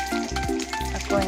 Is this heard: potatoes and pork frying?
yes